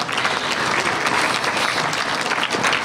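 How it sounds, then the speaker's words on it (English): An audience claps in sustained, dense applause for a drag racer at a Division 3 JEGS Super Quick drag racing event in 2017. The applause stays loud and steady throughout, with no speech. "let's give a round of applause to Danny Nelson"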